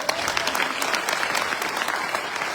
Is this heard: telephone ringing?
no